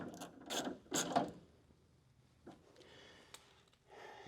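A fastener being tightened on the window mechanism of a 1970-81 second-generation Camaro door, heard as a few quick ratcheting clicks and metallic scrapes close up, followed by quieter mechanical rattling.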